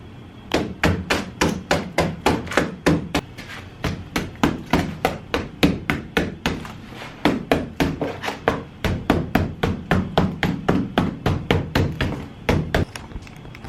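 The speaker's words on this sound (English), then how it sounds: "I'm gonna do some more hammering" A hammer pounding folded aluminum foil into a dagger shape, steady rapid blows in short bursts, close and loud with no talking.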